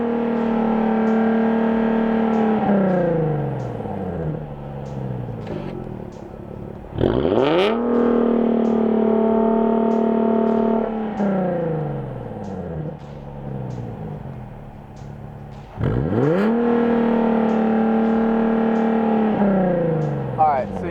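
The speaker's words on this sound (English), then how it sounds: "so that's with the valves closed" A Nissan 370Z Nismo with a Valvetronic exhaust, valves closed, revs hard several times, each rise in engine pitch falling back to a deep idle rumble, loud and close.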